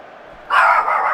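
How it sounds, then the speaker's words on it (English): A pet dog gives a sudden close bark or yip indoors, a single burst that cuts through low room sound and trails off after about half a second. "Oh God, my dog scared the crap out of me."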